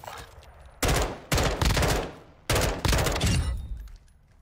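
Bursts of automatic gunfire in Warzone 2.0, loud and close, in three long sustained volleys with short gaps between them and a fading tail at the end.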